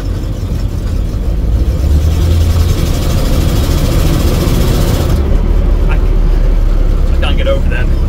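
A 1973 Ford Bronco Ranger engine runs steadily up close with a low rumble, and a voice talks over it.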